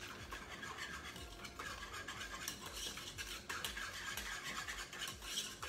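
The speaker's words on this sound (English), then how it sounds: "And I'm gonna stir it up." A spoon stirs milk into pudding mix in a bowl, a quiet rhythmic scraping and swishing, each circular stroke repeating in quick, even succession, close and soft.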